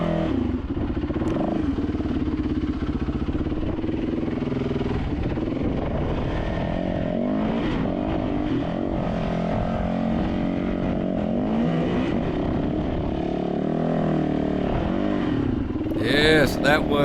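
A dirt bike engine labours and revs on a steep, rough climb toward Chuckwalla Peak. It drones loud and continuous, rising and falling, while people talk over it.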